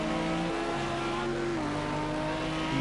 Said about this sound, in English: Listen to that roaring Lamborghini. Sounds fantastic from the rear of that car.